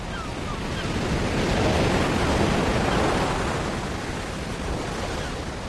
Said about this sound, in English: I can't believe the tide's coming in so quickly.